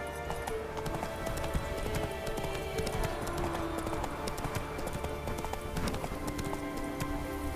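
Roach the horse gallops in The Witcher 3, hooves clip-clopping in a fast steady rhythm over a continuous game soundscape, with no talking.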